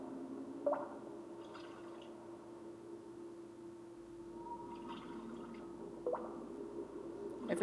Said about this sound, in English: Every time it makes the drip sound, my brain thinks it's that sound.